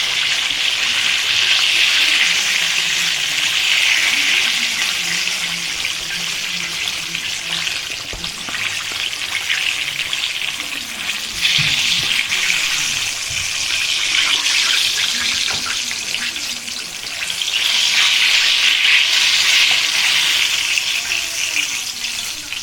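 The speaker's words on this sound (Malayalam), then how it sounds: "ഇനി നമുക്ക് ബാക്കിയുള്ള ചിക്കൻ പീസസും കൂടെ ഇതുപോലെ വറുത്തെടുക്കാം" Chicken pieces deep frying in hot oil for a KFC-style recipe, giving a steady, loud crackling sizzle that runs throughout with faint clinks, no talking.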